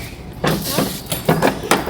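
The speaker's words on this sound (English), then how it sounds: "Close the door." A household door shuts with a few short knocks and thuds in a family home, fairly close, while children's voices and chatter carry on around it.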